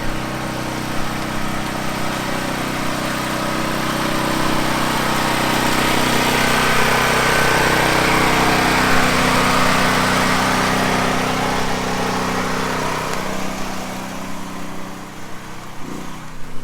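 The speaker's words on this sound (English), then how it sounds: "You hear the generator running right now." A generator runs in a backyard at a house build site, a steady mid-pitched engine drone with a low hum that swells slightly in the middle and carries on for the whole stretch without voices.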